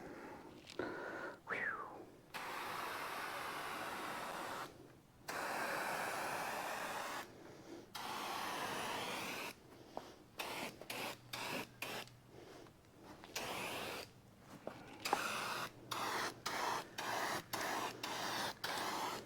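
Rattle-can spray paint hissing onto a 1965 Mustang in short and long bursts separated by pauses, close and clear with no talk.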